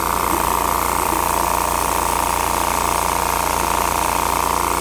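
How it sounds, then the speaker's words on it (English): Small 6HP diesel engine on a Sears garden tractor running steadily at a constant idle-like drone, close and continuous with no pauses or talk. "Engine's running good now."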